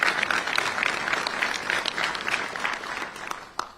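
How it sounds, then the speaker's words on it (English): An audience at a governor's bill-signing event for transportation project funding breaks into sustained applause, a broad wash of many hands clapping steadily throughout, tapering slightly near the end. "Let's give her a big round of applause for that."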